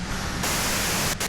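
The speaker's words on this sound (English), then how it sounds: "you can do it through the white noise." Loud, steady broadband radio static hiss from a radio in the Disco Elysium video game, continuous and harsh with a slight shift partway through and a brief dip near the end.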